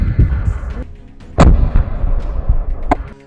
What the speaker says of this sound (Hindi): अल कासिम के लड़ाकों ने आईडीएफ के टैंकों और सैन्य वाहनों को रॉकेट से उड़ा दिया